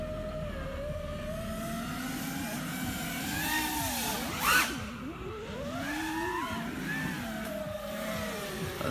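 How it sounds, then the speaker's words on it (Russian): A car drives along a road near a lake trail, its engine hum swelling and dipping in pitch as it moves, heard at moderate distance over a constant outdoor background with no talk. "Видишь, и тачка идет?"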